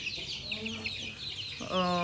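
A country hen clucks in short, moderately loud calls, ending in a longer sustained vocal note near the close.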